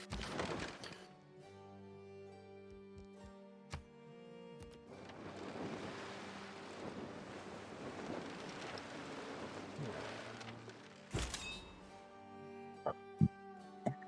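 Rain pours steadily during an in-game storm in Civilization VI, a broad continuous hiss running through most of the stretch, with sharp thunder cracks and thuds near the start and clustered toward the end, plus a soft musical bed beneath.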